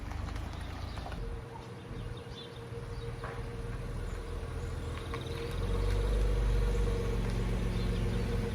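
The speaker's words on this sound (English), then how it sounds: "hopefully you can hear me over the engine noise" A car engine idles with a steady low rumble that grows slightly louder toward the end, with faint clicks and distant birds.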